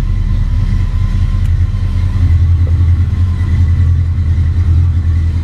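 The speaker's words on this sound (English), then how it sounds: "Show you guys the exhaust real quick." Close by, the exhaust of a 1993 Ford Mustang LX Foxbody runs with a steady, heavy low rumble and slight throttle variation, loud and continuous with no voices.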